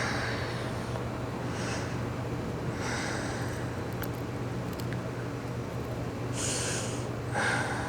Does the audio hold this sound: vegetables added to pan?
no